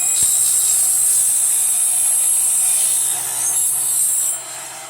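Mini table saw cutting through a copper-clad PCB board, a loud, steady high-pitched whine of the blade biting into the board, holding for about four seconds before easing off near the end.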